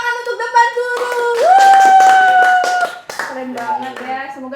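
A crowd at a stand-up comedy event in Cirebon claps in a short burst under loud, cheerful voices calling out together.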